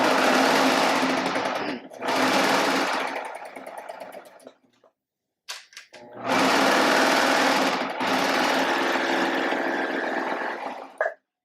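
A serger stitches through a quilting project, running in two long, loud, steady bursts of fast mechanical whirring separated by a brief pause, close up.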